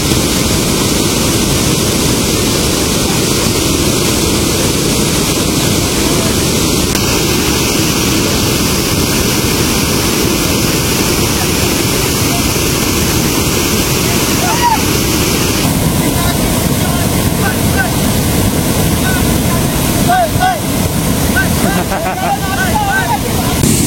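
Khasara waterfall near Daringbadi, with people bathing, gives a constant, loud, broadband roar of rushing water that fills the whole stretch, with faint voices and splashes mixed into the wash.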